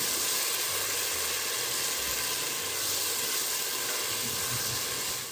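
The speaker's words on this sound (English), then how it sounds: "Alright family, so we're gonna saute this." Epis seasoning sautéing in hot rapeseed oil for a vegan baked chicken, a steady broad hiss of sizzling with a low hum underneath, continuous and even throughout with no talking.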